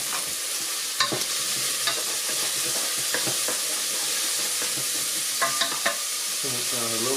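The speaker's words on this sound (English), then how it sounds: "Give this a stir." Vegetables for a risotto sizzle steadily in a pan while a utensil stirs them, with scattered scraping clicks over the constant frying hiss.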